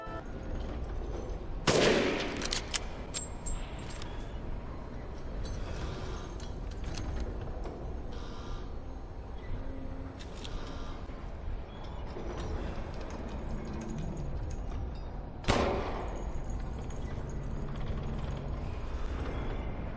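Gunfire in Resident Evil Village, with soldiers shot on production lines, mostly by pistol: two sharp loud reports stand out above a dense mechanical clanking, ratcheting game soundscape, with smaller clicks and thuds between them and no talk.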